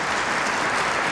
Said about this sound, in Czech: Publikum nadšeně aplauduje